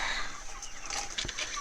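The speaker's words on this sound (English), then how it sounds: "Chickens, if you would like to vote for Joe Biden, stay in the house." Backyard homestead chickens come out of their coop with brief, soft clucks against a low background hiss. The sound is close but faint and lasts under two seconds, with no talking.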